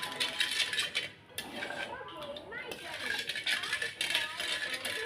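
A metal spoon stirs food in a cooking pot, scraping and clinking repeatedly against the sides in quick rattling strokes while a voice talks over it.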